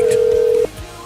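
A single steady electronic telephone tone sounds loudly, then cuts off abruptly, leaving a quieter background.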